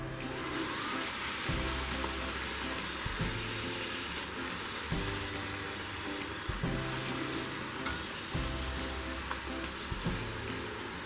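Wheat poori frying in hot oil, a continuous bright, dense sizzle with soft rhythmic bumps and light clatter repeating every second or two, close and steady.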